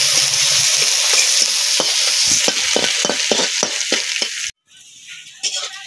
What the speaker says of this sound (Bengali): পেঁয়াজ রসুন কাঁচা লঙ্কা সব ভাজা ভাজা হয়ে আসছে